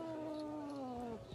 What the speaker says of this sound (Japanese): 肩乗り猫